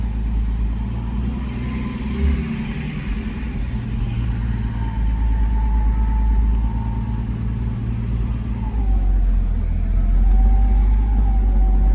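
A 1971 Mercedes-Benz 280SL straight-six, freshly fitted with a new coil and tuned ignition, idles with a deep steady rumble and then revs up and settles in a couple of swells, close and loud with no talk.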